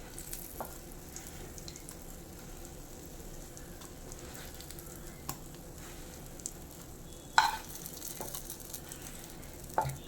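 Brinjal slices fry in a hot pan for a Kerala-style Bengali curry, a soft, steady sizzle with occasional sharp pops and clicks, quiet and close with no talking.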